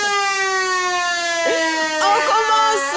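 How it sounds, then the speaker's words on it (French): Siren sound effect on a French-language midday TV show, a loud steady wailing tone with layered harmonics, joined partway through by overlapping shouts and crowd noise. "la sirène retentit."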